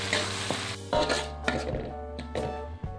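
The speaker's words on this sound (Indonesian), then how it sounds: "Untuk menggoreng cabenya kita cukup memakai waktu 5 menit." Chili peppers fry in a pan for maco and petai, a steady sizzle under loud metallic scrapes and knocks from stirring, with several distinct clanks spread through the short stretch.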